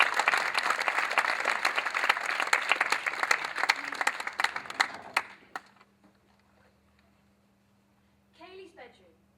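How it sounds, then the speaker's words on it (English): Audience applause fills the first five seconds, a dense wash of many hands clapping with loud close claps on top, then it cuts off to near silence before a brief burst of sound at the end. "give me a quick round of applause"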